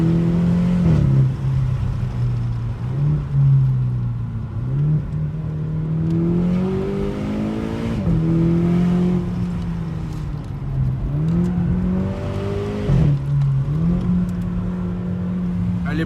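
Seat Ibiza Cupra 1.4 with 180 hp, its engine droning and rising and falling in pitch as it revs and accelerates under way, a steady close cabin recording with several surges and gear changes.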